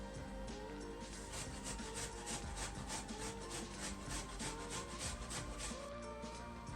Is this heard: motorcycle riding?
no